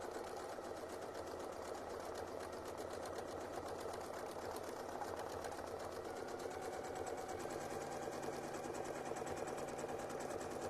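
A quilting sewing machine hums steadily while stitching a curlicue pattern on a quilt block, a continuous fast needle rhythm at even, moderate volume with no one speaking.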